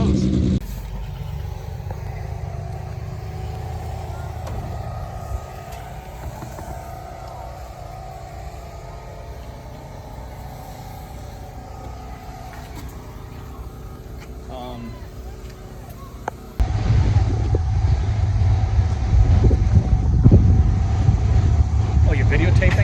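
A Nissan GTR at a motorsport park idles under a muffled, distant drone with indistinct voices, then a launch bursts into a loud, low, sustained engine roar over the last several seconds.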